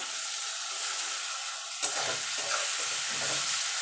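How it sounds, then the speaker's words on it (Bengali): Salted, squeezed bitter gourd hits hot oil with a sudden sharp crackle that settles into a steady frying sizzle, moderately loud and without voices. "এবার আমি তেলের মধ্যে দিয়ে দেবো"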